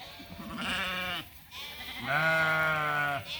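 Sheep in a brushy pasture give two drawn-out, wavering bleats, the second louder and longer, separated by a short pause and heard close by.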